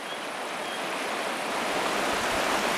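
Fast river water rushing over rocks on a trout stream, a constant loud hissing roar of flowing current close by, steady throughout with no voices.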